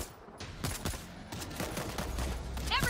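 Burst of gunfire in the video game World War Z: Aftermath, a rapid, loud string of sharp shots firing in quick succession, building toward a dense clatter at the end.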